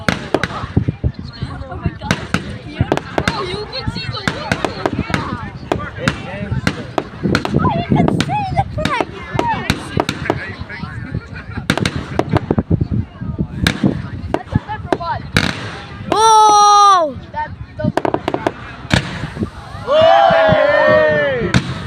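Fireworks burst at Pounawea in a rapid series of sharp cracks and bangs, with a couple of whistling rockets rising near the end, while people talk and react throughout.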